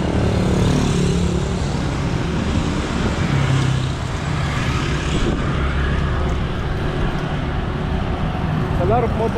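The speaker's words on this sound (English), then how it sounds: "A lot of motorbike here." Busy main-road traffic in Bali, with many motorbikes and cars passing in a continuous loud rumble and engine drone, close by and unbroken.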